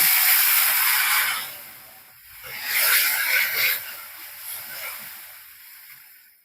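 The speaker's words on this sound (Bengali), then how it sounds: "অল্প অল্প জল দিয়ে মশলাটাকে একটু কষে নেব" Spice paste with salt and turmeric frying in a pan with a little water, for a potol chingri curry, gives a steady sizzling hiss that swells briefly midway, then settles into a softer sputter.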